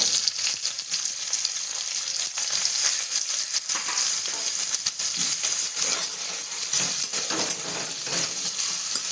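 Onions crackle and sizzle loudly in hot oil, a continuous close-up frying hiss with occasional stirring scrapes.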